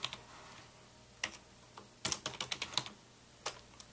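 Someone types a password on a MacBook Pro keyboard: soft, close key taps, first scattered and then a quick run of clicks, in a quiet room.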